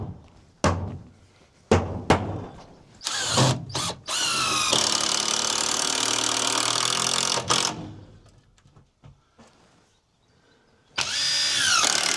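A cordless power drill drives screws while building an off-grid camp kitchen and shower, with several short thunking bursts followed by a long, loud whirring run, close by and with no speech over it.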